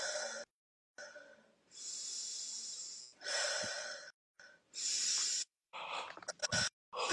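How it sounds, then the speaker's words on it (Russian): Deep, slow breaths during a guided breathing session, several long separate inhales and exhales with quiet pauses between them, heard close and alone, with a few short sniffs at the end. "Еще дышим."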